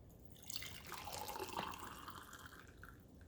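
Hot water pours into a glass canning jar for pressure-canning sweet potatoes, a steady close splashing fill with brief drips and gurgles, no voices.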